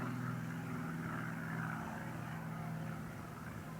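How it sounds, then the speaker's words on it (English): A crop-dusting aeroplane spreading fertiliser over hills and fields near a lake, its propeller engine a steady broad drone overhead, moderately distant and continuous without talk. "We can hear an aeroplane."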